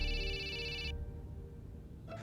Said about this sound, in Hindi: इस डीएसपी राठौड़ की घंटी देख फिर बज गई